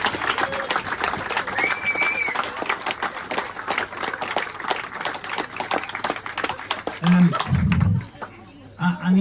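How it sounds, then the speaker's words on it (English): Applause and clapping from a rugby clubhouse crowd for two teams after a match, a dense sustained patter filling most of the stretch before fading out, with a few low voices near the end. "let's give a round of applause to those 2 teams"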